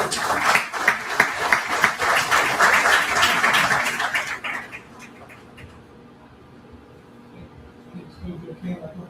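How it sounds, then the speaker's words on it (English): A crowd at a chapter meeting press conference applauds people coming to the stage, a loud burst of clapping for about four seconds that drops off abruptly, leaving quieter room noise with faint voices. "give them a round of applause"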